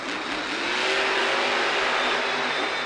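El Toro Loco, a monster truck driven by Armando Castro, roars at full throttle through a slap wheelie at an arena freestyle event; one loud, sustained engine blare with a rising whine.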